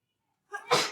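A single sharp sneeze from a person in a classroom lesson, a short intake followed by a loud burst, close and alone.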